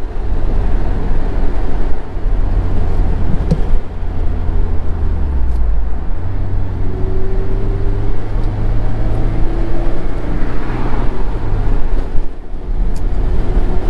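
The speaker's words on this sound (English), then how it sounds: "The wind noise is not that bad with the windows up." Inside a 2017 Mazda Miata RF with the windows up at speed, steady wind and road noise roars loudly and continuously, with a low engine drone that shifts in pitch as the car is driven.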